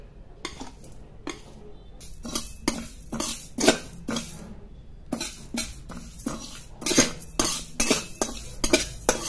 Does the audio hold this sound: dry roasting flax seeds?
yes